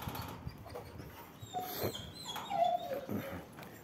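A dog whimpers and yips softly a few times, thin high whines rising and falling at a distance over quiet background.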